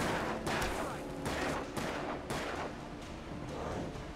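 Rapid bursts of gunfire from the video game Alan Wake, a string of sharp cracks repeating roughly every half second over a dense, noisy backdrop, loud and close.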